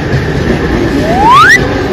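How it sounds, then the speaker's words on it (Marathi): An overloaded train pulls into a station on a rainy day, its wheels giving a sharp rising squeal over the low rumble of the carriages. "मित्रांनो फायनली ट्रेन आलेली आहे हे बघा"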